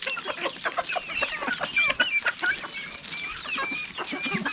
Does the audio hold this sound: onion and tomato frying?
no